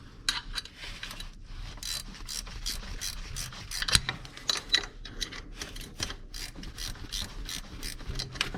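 A ratchet tightens a 13 mm bolt holding up the AC compressor during alternator replacement on a 2008 Chrysler Sebring 2.7L, giving a long run of quick, close, crisp clicking strokes with brief pauses between bursts.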